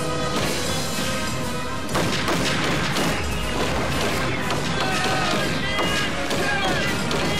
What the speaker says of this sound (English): Coven drops some dynamite and blows it up. It's still alive, so they unload their guns into it.